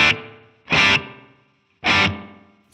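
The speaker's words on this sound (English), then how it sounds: "Spring 3 has a little bit more of that springiness to it." Three loud distorted guitar chord stabs, each run through the Spring 3 reverb setting in Tonex, with a springy, washy tail trailing off after every hit.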